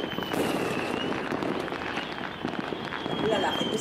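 Firecrackers crackle during Christmas celebrations in Lima, Peru, a dense spray of sharp pops and bangs over a busy, noisy street crowd, steady and fairly loud throughout.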